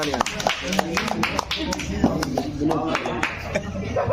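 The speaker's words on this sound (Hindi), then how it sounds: "आप लोग जोरदार तालियों से एक बार सिराज अली जी का स्वागत करें।" Clapping from the audience at a Holi poetry gathering (kavi sammelan) in Mohammadi, irregular sharp claps with a voice and other sounds running underneath throughout.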